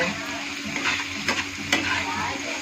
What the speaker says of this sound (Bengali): চিনিটাকে ভালো করে মিক্স করব।